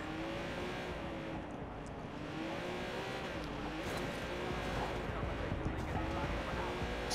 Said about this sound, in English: I love going fast in this car on the highway